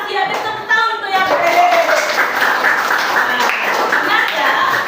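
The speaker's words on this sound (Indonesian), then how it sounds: "Ada tepuk tangan untuk yang" A classroom group claps in a dense continuous patter that starts partway through and holds steady until the end, with voices speaking over the applause.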